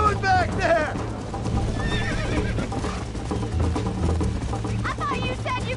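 A horse in the video game Red Dead Redemption whinnies loudly several times over galloping hoofbeats, with a busy musical background throughout.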